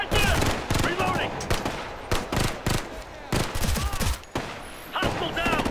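Light machine gun fire in the Ghost Recon Future Soldier mission Shattered Mountain, sustained loud bursts in a rhythmic stutter with short gaps, mixed with other battle noise and some shouting.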